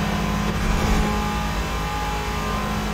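A car in The Crew Motorfest video game launches hard and accelerates, its engine roaring loudly and steadily at high revs throughout, close and unbroken with no talking.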